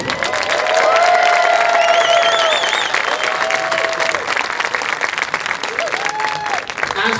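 A large crowd claps and cheers for the Pride of Piqua Marching Band at a parent event, dense steady applause with whoops and shouted voices rising over it, fading slightly toward the end.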